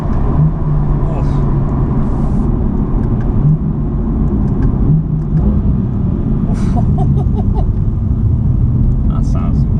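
A BMW M2 in sport mode accelerating, a loud steady engine roar with road rumble from inside the cabin, and people talking over it.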